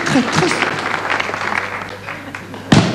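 An audience at a comedy sketch show claps in a steady wash of applause that fills the whole stretch, with a brief louder burst near the end.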